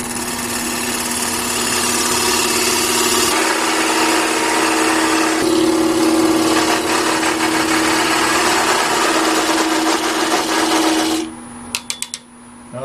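Wood lathe slowed to about 1,000 rpm cutting a twig vase with a narrow parting tool, a loud steady motor hum under a rough continuous scraping that stops near the end, followed by a few clicks.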